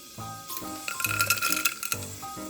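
Mustard seeds and cumin dropped into hot oil for tomato bhaat, a rattly clinking scatter followed by light crackling sizzle, close up and fairly loud, with music playing underneath.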